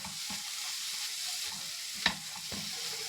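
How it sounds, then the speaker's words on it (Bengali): Mustard and poppy seed paste with salt and turmeric sautés in a pan, giving a soft, steady sizzle broken by a few spatula scrapes and one sharp clack. "সেটাকে একসঙ্গে নুন হলুদ দিয়ে কষিয়ে নিচ্ছি"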